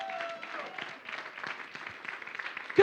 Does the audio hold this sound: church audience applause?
yes